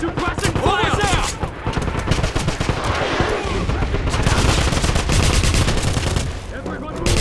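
Dense, loud machine-gun bursts and gunshots in a Wolfenstein shooter battle, rapid continuous rattling fire with booms mixed in and shouting voices throughout.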